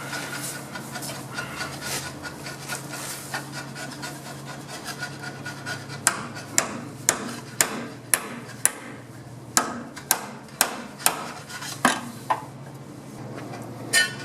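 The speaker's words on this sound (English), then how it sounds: "This is a special demolition screwdriver." A demolition screwdriver is struck with a hammer while a K5 Blazer truck frame is being stripped: after a stretch of low rustling, a series of about a dozen sharp metallic blows lands at a steady, fairly even rhythm, close and loud.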